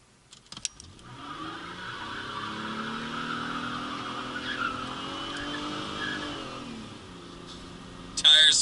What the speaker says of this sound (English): Tires spin all the way to 80. Alrighty then, with about like 20 feet of tire squeal